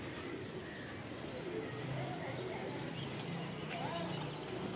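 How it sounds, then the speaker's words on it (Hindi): Soft pigeon sounds, cooing and fluttering, drift faintly through a steady, noisy outdoor background with voices murmuring nearby. "ये आप देखें कबूतर"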